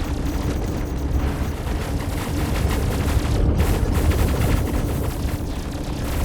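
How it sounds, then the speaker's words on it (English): Medusa cannon fire from an RSI Perseus ship in a space combat video game, with loud, sustained rumbling booms and blasts that swell slightly toward the middle; no talking. "Medusa cannon, go!"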